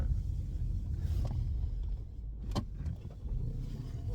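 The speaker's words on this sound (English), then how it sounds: "okay, got all these cars coming up." Cars arriving and pulling up outside on Valentine's Day, a continuous low engine rumble with tire and mechanical noise and a brief creak midway, steady and fairly close.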